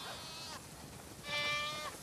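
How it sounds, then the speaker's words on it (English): A flock of sheep in The Last of Us Part II game bleats in the distance, two wavering calls that overlap one another, heard over a steady ambient background. "that's a lot of sheep."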